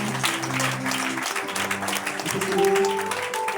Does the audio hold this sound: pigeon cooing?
no